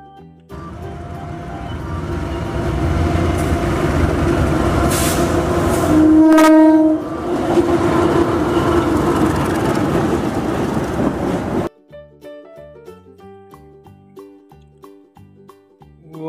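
A toy train locomotive rumbles and clatters steadily, with a loud whistle-like horn blast midway, then the running noise cuts off into quieter tapping.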